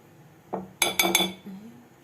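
A utensil stirs cake batter with baking powder in a bowl, tapping and clinking against the rim about four times in quick, close succession, with no voices.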